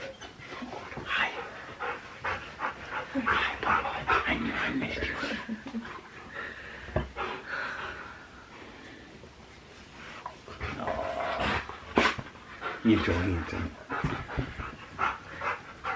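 An excited dog pants and whimpers near the microphone on its owners' return, quick breathy pants and soft whines while someone speaks affectionately over it.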